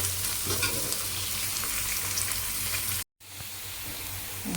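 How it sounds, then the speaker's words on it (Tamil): Chopped onions sautéing in a pan for Tamil-style chicken kuzhambu: a steady, close, even sizzle with light stirring scrapes, cut by a brief silent gap partway through. "வெங்காயம் நல்லா வதங்கிடுச்சு."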